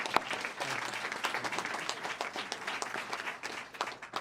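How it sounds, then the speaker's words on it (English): An audience at a Pennsylvania education event applauds the governor with sustained, dense clapping from a crowd, moderately distant, running for several seconds with no pause. "I want a round of applause for Governor Shapiro"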